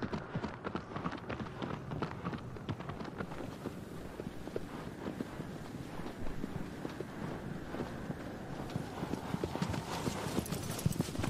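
A horse gallops steadily across open ground in the video game Shadow of the Colossus, with a fast, continuous drumming of hoofbeats up close and wind noise underneath.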